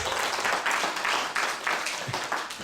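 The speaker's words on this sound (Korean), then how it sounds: "박수 부탁드립니다." An audience at a special lecture during a Handong Global University camp applauds. The clapping is dense, steady and continuous for a few seconds, from many hands at a moderate distance, with no talk over it.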